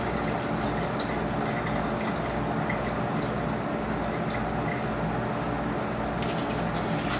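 Cold water gushes and splashes steadily out of a beer keg being emptied during homebrew keg cleaning, a continuous close liquid pour with a low rumbling flow throughout and no talking.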